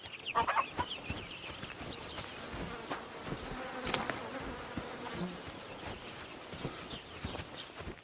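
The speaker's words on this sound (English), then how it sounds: "Chickens." Chickens clucking in the medieval video game Kingdom Come Deliverance 2, faint scattered clucks and short calls over a busy bed of buzzing insects and ambient rustling, no speech.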